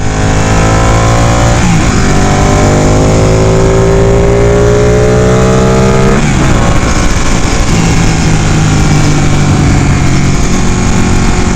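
A Ducati 899 Panigale motorcycle engine roars steadily while riding on a freeway, with its pitch climbing through a couple of gear pulls under heavy wind rush. The sound is loud and constant throughout.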